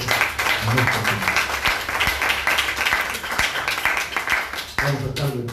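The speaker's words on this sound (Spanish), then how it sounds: "Démosle un aplauso a nuestro Señor." Congregation applauding for the Lord at a church service, a dense, steady wash of clapping that runs the full length, with the broad noise of the room and some voices underneath.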